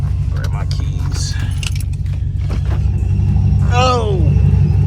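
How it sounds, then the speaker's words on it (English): Car keys jangle as they are picked up, a short metallic rattle riding over a steady low engine rumble from a supercharged Chrysler 300 at night, with a brief chirp near the end. "Grab my keys."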